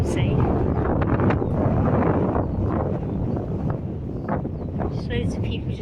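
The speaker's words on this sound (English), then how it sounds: "I don't know whether you can hear me because of the wind" Strong gusts buffet a microphone on a beach walk at Crosby near Liverpool, a continuous loud rumble of wind noise, with a person speaking faintly beneath it.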